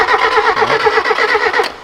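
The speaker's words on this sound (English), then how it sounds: "So as long as she fires and turns over, that'll be our first step." A Ford TX3 turbo twin-cam engine cranking hard, its starter churning in a fast, steady rhythm, loud and close, trying to catch.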